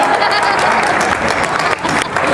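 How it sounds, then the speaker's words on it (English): Guests at a party applaud loudly in a dense, continuous burst of clapping that stays steady throughout and fades slightly near the end. "Let's give her a round of applause."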